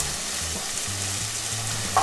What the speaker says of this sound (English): Saute the onion first